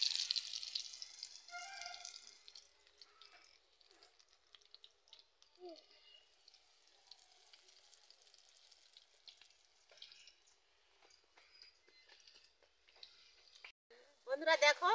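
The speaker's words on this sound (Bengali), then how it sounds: "এইভাবে সবগুলো আমি বড়া ভেজে নেব।" Bora fritters frying in hot oil in a home kitchen setting, giving a soft, steady crackle and sizzle with scattered stirring clicks and a brief louder burst near the end, quiet overall.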